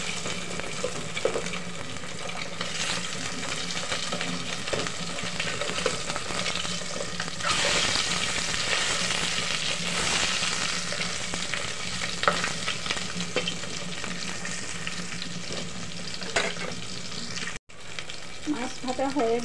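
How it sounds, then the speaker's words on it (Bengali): Pieces of fish sizzle and spit steadily in hot oil in a cooking pot as they are stirred and turned over, with a continuous loud frying hiss broken by occasional clinks of the utensil and a brief cut near the end. "এখন আমি মাছ ভাজাটাকে নেড়ে চেড়ে ভেজে নেব।"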